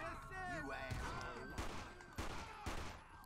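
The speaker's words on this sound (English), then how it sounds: "We got gunfire." Gunfire in a Grand Theft Auto police-mod game set in Los Santos County: a few sharp, scattered shots ring out over a steady game background while someone talks.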